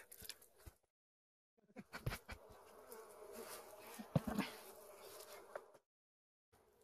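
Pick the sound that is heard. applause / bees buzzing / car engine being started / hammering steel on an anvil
bees buzzing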